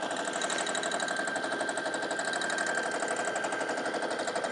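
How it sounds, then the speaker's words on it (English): A sewing machine stitches free-motion colouring fill on fabric, a fast steady mechanical whirring with rapid regular needle clatter, close and continuous with no voices. "It's like colouring with a sewing machine."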